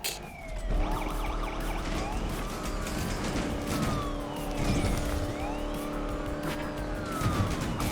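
A police siren wails during a car chase in the racing game NFS Unbound, rising and falling over continuous engine roar, tire noise and other traffic sounds.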